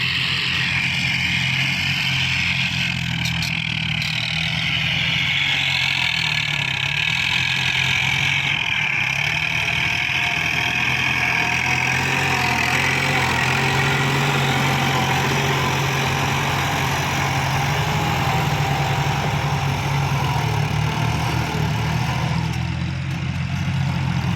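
A heavy diesel tractor engine idles steadily and continuously, a low chugging rumble holding the same pace throughout with no voices.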